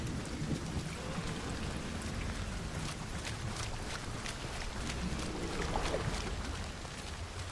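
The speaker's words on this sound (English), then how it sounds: "Heavy rain." Heavy rain pours steadily in the Hunt Showdown video game, a dense continuous hiss with low thunder rumbling beneath it throughout, loud and unbroken with no voices.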